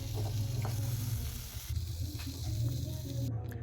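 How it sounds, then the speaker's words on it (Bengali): Prawns sizzle and crackle in hot oil in a pan with a steady hiss, stirred occasionally. "চিংড়ি মাছগুলো ভেজে নিচ্ছি"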